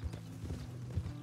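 Horse hooves clip-clopping in the RedM western roleplay game, a few soft, low thuds at an irregular walking pace, faint and muffled against a quiet background hum.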